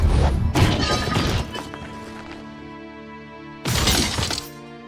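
In a Fate Stay Night fight scene, a body slams into a concrete wall with a loud, shattering crash and a heavy impact. A ringing resonant tail follows, then a second loud crash bursts in near the end.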